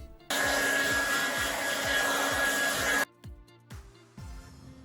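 An older Remington hair dryer runs at full power with a loud, steady, even whoosh and whine for about three seconds, then cuts off abruptly, leaving a quieter room with faint clicks.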